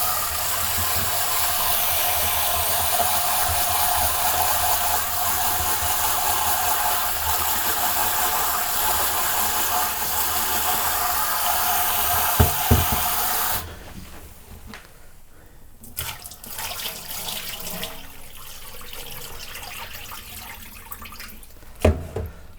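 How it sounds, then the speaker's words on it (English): Water runs steadily into a pot of rice for about thirteen seconds in a bright, rushing, close stream, then stops, followed by scattered clinks and handling sounds. "yeah, so I'm going to put the water in there,"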